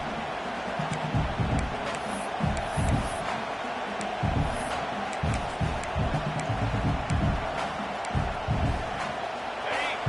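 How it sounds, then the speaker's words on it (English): A full-throated football stadium crowd roars and cheers continuously, loud and dense, with surging shouts and thumps throughout and voices mixed into the din. "This crowd, full throat, spreading the eardrums and letting them know it's going to be a long day."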